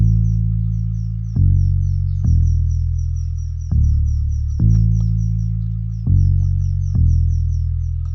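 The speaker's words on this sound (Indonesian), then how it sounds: "Nah ini dia bassnya, bunyinya seperti ini teman-teman." Deep, heavy synth bass from the Citrus plugin's Deep 2 preset plays long sustained notes with sharp attacks, each one slowly fading, loud and alone with a faint high synth line above.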